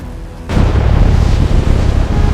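The atomic bomb Fat Man explodes above Nagasaki, a sudden deep boom that swells into a sustained, dense, loud rumbling roar with no talk over it.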